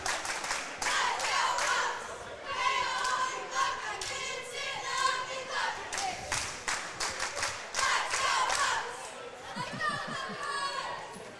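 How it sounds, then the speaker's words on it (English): Buckeye cheerleaders at a high school basketball game, Nelsonville vs Portsmouth West, chant in rhythm with steady claps, and the crowd chatters around them as a commentator talks over it. "Buckeye cheerleaders back out on the floor cheering on the Buckeyes."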